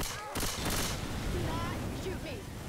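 Grenade launcher fire and a gas can blowing up in Left 4 Dead 2, heavy booming blasts and rumbling gunfire filling the scene while voices talk over the chaos.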